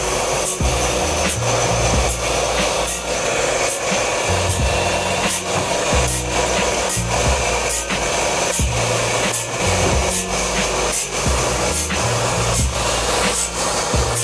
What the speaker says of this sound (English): So this is how a sharpening of blade is done.